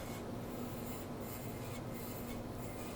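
A skew chisel cuts a tenon on a burl vase spinning on a wood lathe, giving a faint, steady scraping hiss over a low motor hum, continuous for a few seconds with no talking.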